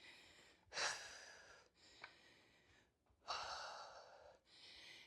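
Heavy, gasping breaths from someone mid-way through a fast strength circuit of side-to-side front squats, coming in several loud, rough bursts with quieter breathy stretches between them and no talking.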